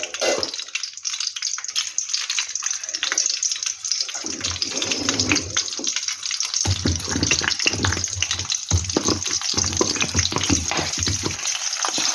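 Dried red chilies frying in hot oil in a home kitchen, a steady bubbling sizzle running throughout with scattered crackles and faint stirring, no talking.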